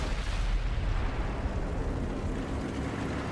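A tank cannon fires in the World of Tanks console game, a deep, rumbling blast whose broadband roar fills the clip and slowly fades with no talk over it.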